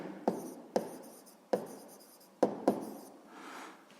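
Pen or pencil writing by hand on paper, a handful of quick taps and short scratchy strokes close and quiet, with no talk.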